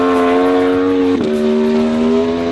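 A superbike at full throttle howls loudly up close and holds a steady high pitch, then the note drops sharply as a quickshifter clicks through one rapid upshift.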